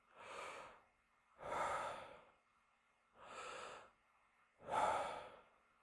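Four slow, loud, deliberate breaths, alternating long airy inhales and exhales, taken close to the microphone as breathing practice for playing saxophone.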